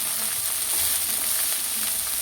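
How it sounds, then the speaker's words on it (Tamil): Fresh coriander leaves sauté in a hot pan for chutney, giving a steady, close, dense sizzle and hiss that runs without a break, with no talking. "இப்போ கொத்தமல்லி சேர்த்துக்கலாம் இதுவும் வந்து கொஞ்சம் வதங்கணும்"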